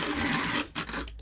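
A premium hand coffee grinder gives a brief, close, noisy grinding whir of just over a second, with a small bump partway through.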